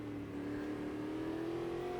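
A big, heavy race car engine in the Automobilista 2 video game holds a steady, droning mid-pitched note, sustained and even throughout the short stretch.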